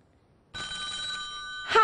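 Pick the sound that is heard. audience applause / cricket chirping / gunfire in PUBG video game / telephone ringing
telephone ringing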